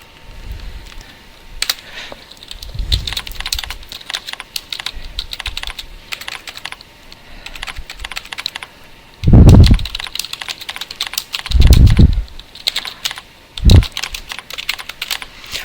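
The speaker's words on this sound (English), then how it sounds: "Once we finish typing our little message," Steady typing on a computer keyboard, a continuous run of quick clicks with a few louder low thumps scattered through, close and clear.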